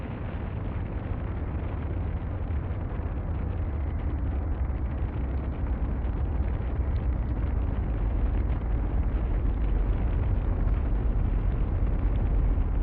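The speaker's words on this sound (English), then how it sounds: "Fusion propulsion jet engines firing." Fusion propulsion jet engines fire in a science-fiction film scene: a loud, steady, deep rumbling roar with dense low-end energy holds unbroken throughout and swells slightly toward the end.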